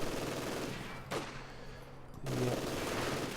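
Grenadier machine gun fire in the real-time strategy game Company of Heroes 2 is heard as sustained rattling bursts with a short quiet gap in the middle, at moderate to low volume, with a brief spoken word over it.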